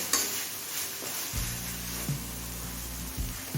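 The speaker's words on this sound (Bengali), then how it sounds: "এবার হাই ফ্লেমে মশলাটা খুব ভালোভাবে কষিয়ে নেব" Masala for chicken khichuri being fried and stirred on high flame, a low sizzle with scraping strokes and a few sharp clinks of a spoon against the pan, close by and without speech.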